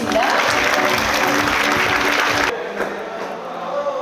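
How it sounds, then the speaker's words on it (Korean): Steady audience applause fills the first part, loud and full, then cuts to a quieter room with scattered clapping. "큰 박수 부탁드리겠습니다"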